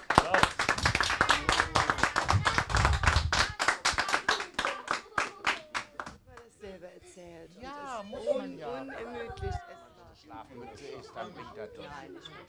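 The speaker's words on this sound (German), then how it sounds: "Jetzt dürft ihr nochmal jubeln." Children and a crowd at a company's first-anniversary celebration clap rhythmically and loudly for several seconds, then the clapping thins out and gives way to chatter and talking voices.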